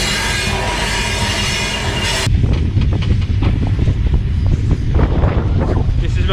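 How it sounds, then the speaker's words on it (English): An iron ore train rumbles past in Mauritania, its wheels squealing and clattering over a steady heavy roar, with wind buffeting the microphone at first. "See how long"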